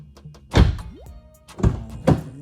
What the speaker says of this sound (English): So I can go ahead and close the door for a second.